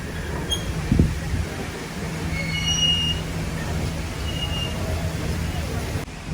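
A train pulls into Sriracha railway station in Thailand, its wheels rumbling steadily with high metallic squeals, along with a brief clank and voices in the background.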